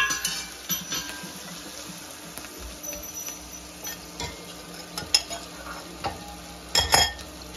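Chilies dropped into a hot pan to fry, a low steady sizzle under scattered clicks and scrapes of a stirring utensil against metal, with a sharper clatter near the end.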